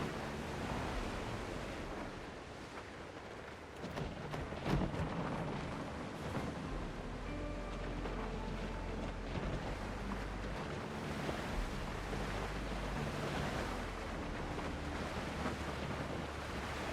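A small ship sails across the ocean in the game Windrose, with continuous rolling surf and wind rush under a low steady rumble, and no voices.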